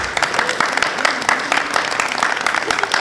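An audience applauds a theatre talkback guest with dense, steady clapping that continues throughout at a strong, even level.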